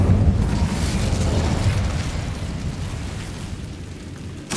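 The Incendio fire spell in Hogwarts Legacy erupts as a loud, roaring whoosh of flame with a deep rumbling body that holds steadily and then tapers slightly, alone without talk.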